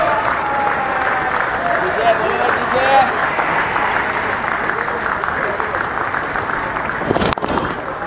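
Crowd applause at a Bangladesh versus Zimbabwe cricket Test match, day two, greeting a 100-run partnership: a sustained, distant wash of clapping across the stadium, with a louder burst near the end.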